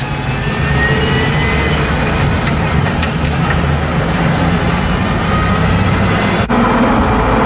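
A Ford F250 pickup with a 460 big block V8 cruising at a steady 50 to 55 mph under 2,000 RPM, a loud constant low engine drone and road roar heard from inside the cab with no talk.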